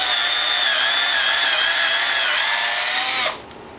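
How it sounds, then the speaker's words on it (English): Power drill boring screw holes into wooden standoff boards for a cat ladder, a loud, steady high whir for about three seconds that then drops away suddenly as the bit stops. "Drill holes 1¾ inches from one end of each standoff for the screws"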